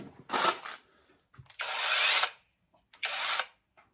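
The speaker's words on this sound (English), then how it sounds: "Chainsaw. So it is charged up." A Seesii cordless pole saw whirs in three short bursts, each about half a second to a second long, with brief quiet gaps and faint clicks between.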